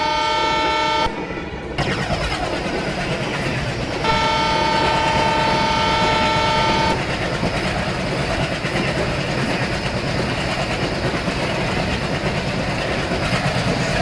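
A diesel locomotive in the Indian Railways Train Simulator game rumbles steadily along the rails, with two sustained horn blasts near the start and a longer one in the middle, no voices.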